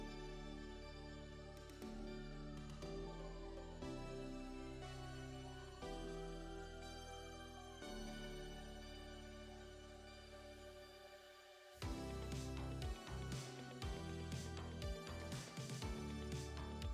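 A Rocky III fight scene plays on a television in the background, with orchestral music swelling, faint and steady, then a louder, busier burst of fight sounds near the end.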